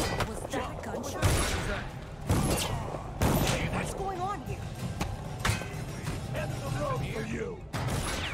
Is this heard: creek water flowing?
no